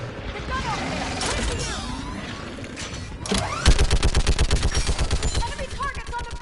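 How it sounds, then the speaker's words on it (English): A mounted gun in Mass Effect 3 opens up in a rapid, loud burst of evenly spaced heavy shots over the second half, after scattered gunfire and shouted voices during a battle. "Get on that gun up there and do some damage!"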